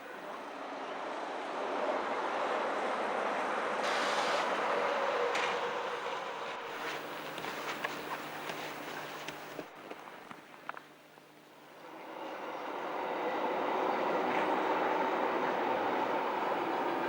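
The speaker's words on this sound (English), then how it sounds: "the Rhätischen Railway then takes them back up to Preda on a special sled train" Rhaetian Railway special sled train carrying sledders back up to Preda, a steady broad rumble and rail clatter that swells, dips around the middle, then builds again, with no voices.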